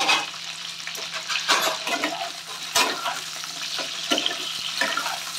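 Green chillies sizzle in hot oil in a pan, a steady loud hiss with scattered pops and stirring scrapes running throughout, no talk.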